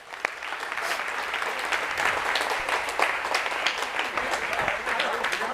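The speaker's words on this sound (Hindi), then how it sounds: "प्लीज आइए, जोरदार ताली एक बार।" Loud, continuous applause from a live audience at a talk event on laughter and digital media, dense clapping sustained throughout with faint voices mixed in.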